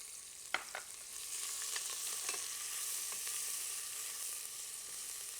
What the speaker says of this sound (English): now the onions are frying up really good